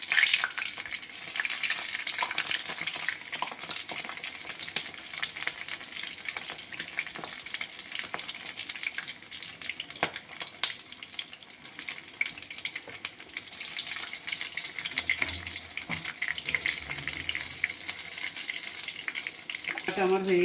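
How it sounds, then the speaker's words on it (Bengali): Chili pakoras fry in hot oil and get flipped, giving a steady, close sizzle that runs throughout with a few soft clinks and stirring noises near the end. "এখন দিচ্ছি লঙ্কার পকোড়াগুলো এক পিঠ উল্টিয়ে দিচ্ছি আমি আবার"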